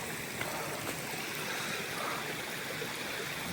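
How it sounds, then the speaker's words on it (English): Rain-swollen stream on the Appalachian Trail, water rushing steadily as a broad, continuous wash of flowing sound, close and even throughout with no voices. "Being that it has rained a lot, the water is just flowing."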